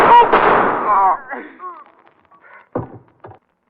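Two sharp gunshot sound effects in a vintage radio crime drama crack out one after another near the end, following a stretch of urgent, shouted dialogue.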